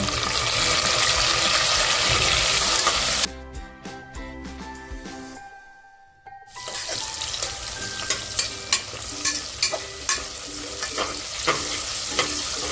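Chopped tomatoes hit a hot oiled pan with onion, a loud sizzle that drops away briefly, then frying resumes with repeated scraping, clacking stirs of a spoon against the pan.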